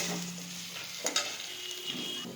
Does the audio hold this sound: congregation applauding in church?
no